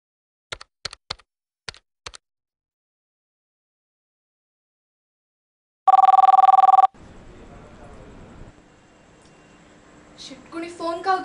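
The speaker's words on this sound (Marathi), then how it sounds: "कुणी फोन का उचलत नाहीये?" A mobile phone call rings unanswered after a few quick taps on the screen to dial: a short loud ring tone, then softer ringing and a recorded voice saying the call cannot be taken.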